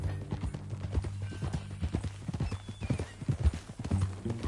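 Horse hooves clip-clop steadily in Red Dead Redemption 2, a close rhythmic run of hoofbeats with faint background music and a brief whinny-like sound, without speech.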